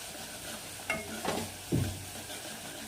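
Coarsely crushed garlic and cumin sauté in a pan with a low, steady sizzle, broken by three brief scraping stirs, heard close and quiet without voices.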